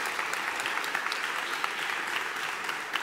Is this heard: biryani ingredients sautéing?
no